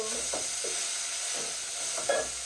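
Onions sizzling in a pan as the first step of cooking red cabbage, a steady close hiss with soft stirring scrapes, broadband and continuous with no one speaking.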